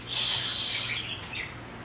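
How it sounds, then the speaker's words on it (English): A parrot kept indoors gives a bright, scratchy squawk lasting about a second, then a shorter, quieter call, with no talking. "I'm having a parrot next to me"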